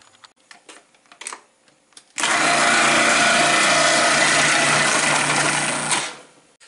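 Vegetables and apples for chow chow being shredded in an electric food processor or shredder: a loud, steady whirring grind that starts abruptly, runs for about four seconds, then cuts off, preceded by faint handling clatter.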